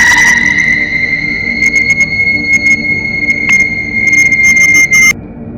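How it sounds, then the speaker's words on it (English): A ghostly spirit's horrendous screech as a sound effect: a loud, sustained piercing high whine held for about five seconds over a rumbling bed, with flickering crackles before it cuts off abruptly. "lets out a wickedly horrendous screech as her jaw unhinged like a snake's"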